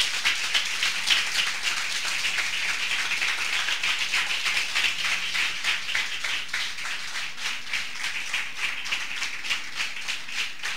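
A church congregation claps in steady rhythmic unison at a Spanish-language service, a continuous dense patter of many hands at even tempo, loud and close, with no talk over it.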